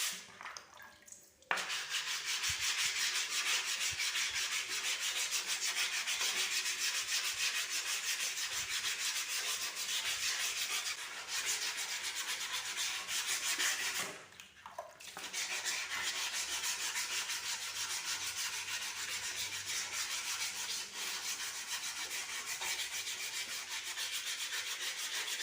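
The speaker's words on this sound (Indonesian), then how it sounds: "gosok haluskan lagi dengan kertas amplas grid 240. Gosok basah dengan menggunakan air." Steady wet sanding with 240-grit sandpaper and water on forged carbon made from kevlar offcuts, a continuous gritty rubbing that runs for most of the clip with two short pauses, close and fairly loud, no voices.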